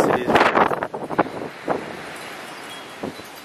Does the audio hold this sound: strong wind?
yes